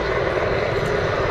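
A Czech Mil Mi-35 Hind military helicopter coming into a hover during an air show display at Duxford, its engines and rotors a loud, continuous, dense roar with no pauses.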